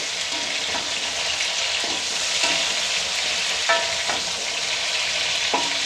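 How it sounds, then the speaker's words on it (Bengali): Jujubes fry lightly in oil for a sweet-sour pickle, a steady close sizzle broken by several clinking stirs of a utensil against the pan. "বড়ইটা আমি একটু তেলের উপর ভেজে নিব, সামান্য হালকা ভেজে নেব এটা।"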